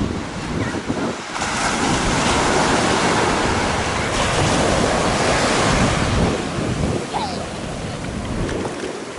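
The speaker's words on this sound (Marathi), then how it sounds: "टौरांगा माउंट मॅंगोनईचा समुद्र" Ocean surf rolls onto Mount Maunganui beach in Tauranga, a loud, steady roar of breaking waves with heavy wind buffeting the microphone throughout.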